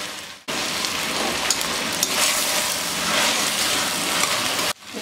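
Mixed vegetables for veg biryani sautéing with salt in a pan: a steady, loud, close sizzle that starts suddenly, holds evenly for about four seconds, then cuts off.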